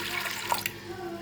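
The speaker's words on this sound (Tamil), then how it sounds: "இப்போ தண்ணி விட்டுக்கலாம் தேவையான அளவு." Water is poured into a pressure cooker holding moong dal for a sago payasam, a soft close trickle and splash over a faint background, without talk.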